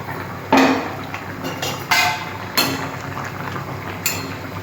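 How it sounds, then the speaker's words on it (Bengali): Fish curry of singi fish simmering in a covered pot, a steady bubbling hiss broken by several sharp clinks of the lid and utensils against metal. "মাছগুলো দিলাম, আমি একটু ঢাকা দিয়ে দিচ্ছি, একটু ফুটুক"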